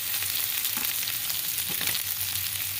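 Onions fry in a hot pan for a chicken tenders and pasta dish, a dense continuous sizzle with a few soft scraping stirs, close and loud with no talking.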